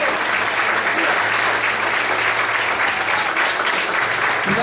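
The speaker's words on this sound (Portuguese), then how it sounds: "aplaude o Senhor e glorifica a Deus" A church congregation applauds loudly and continuously, a thick, even wash of many hands clapping that holds steady throughout with no break.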